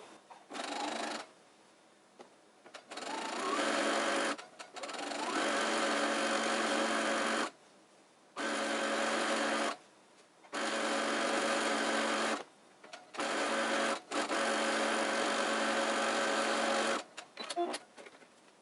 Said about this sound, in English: we're still in the single stitch setting, still a 1/4 inch, and we don't need to worry about back stitching